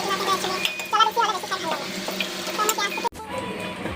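Onions fry with ginger, garlic and chili paste in a pan, giving a steady sizzle with stirring and utensil scrapes, fairly close and loud throughout.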